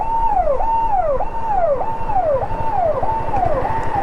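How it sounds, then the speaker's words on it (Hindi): A politician's car driving past with its siren wailing in a steady repeating falling sweep, loud and close over road rumble, on a trip toward Delhi. "नेताजी की गाड़ी जा रही है सायरन बजाते हुए"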